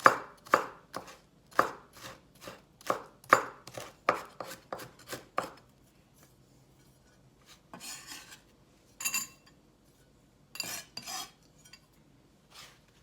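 A knife chops garlic on a cutting board for okoy sauce, with about a dozen crisp, evenly paced chops, then a pause and a few scraping, sliding sounds of the pieces being gathered.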